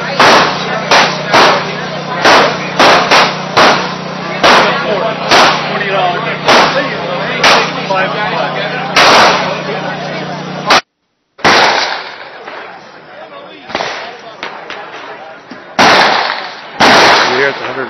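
Rifle shots on a 100 meter outdoor range at an open house, a loud, close series of sharp cracks at irregular intervals, with people talking between them.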